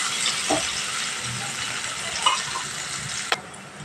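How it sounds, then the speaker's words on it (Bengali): Chopped onion sizzles in hot oil over a medium gas flame, a steady bright crackling hiss with a few soft clinks and stirring scrapes, close and fairly quiet. "পেঁয়াজটা ভাজা হয়ে গেছে"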